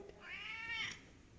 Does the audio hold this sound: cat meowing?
yes